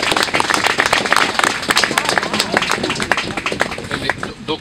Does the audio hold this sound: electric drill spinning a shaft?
no